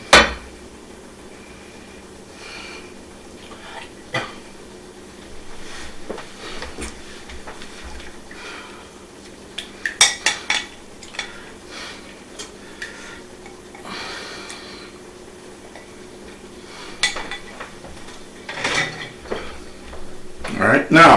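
Marinara pasta sauce is added to a baked ziti dish in a home kitchen: scattered clinks of a spoon and jar against cookware, soft scraping and dull knocks, close by and intermittent throughout.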